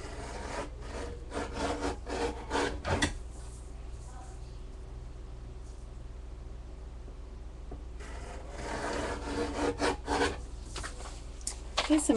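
A guillotine paper cutter slices through scrapbook paper in a quiet room with a dulled blade, giving a run of short rasping strokes that pause for a few seconds and then return as another rough cluster of cuts, with faint talk.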